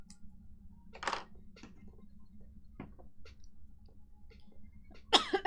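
A single cough bursts out near the microphone during plushie sewing work, with a second rough cough-like burst closing the segment over a quiet room hum.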